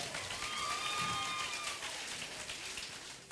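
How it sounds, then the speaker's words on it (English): An audience at a small-town talent show finals claps steadily, a dense even wash of applause that holds for several seconds and fades slightly at the end. "give him a round of applause."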